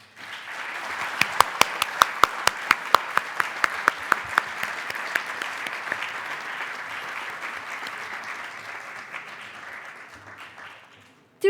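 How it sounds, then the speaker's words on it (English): An audience applauds teachers at a graduation ceremony. Sharp, distinct claps burst out first, then merge into a steady wash of clapping that holds for about ten seconds before tapering off. "giving them our loudest and warmest applause."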